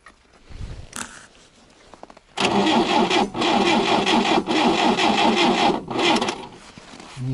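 A car engine cranks and churns loudly on a winter cold start after sitting unused, for several seconds with brief pauses between attempts, never catching into a steady idle.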